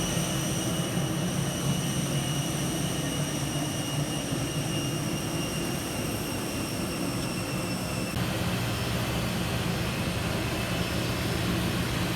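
A British Airways Airbus A320neo jet taking off from runway 08R after de-icing, heard from inside the cabin as a steady, loud, broadband engine roar with a constant whine throughout.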